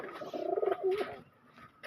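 A restless loft pigeon gives a soft, throaty, rolling coo close by, a brief burst of pulsing notes followed by quieter rustling, with no speech.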